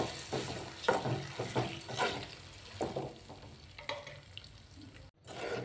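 A sizzling tempering is stirred through tamarind chutney, with soft crackle under repeated scraping strokes of a spoon in the pot, close by and fairly quiet, and a brief pause near the end.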